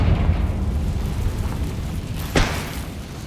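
A Confringo fire spell blasts in Hogwarts Legacy, a rumbling explosion that opens loud and trails off into a low roar, with a sharper secondary burst near the end.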